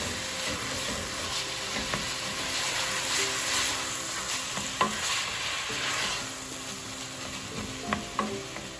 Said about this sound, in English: Now I'm going to add the meat. I want to break it up.